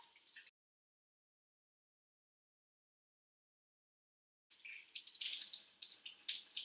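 Tap water runs while soap is rinsed off hands at a sink, a soft hiss that cuts out briefly and then returns, alone with no talk.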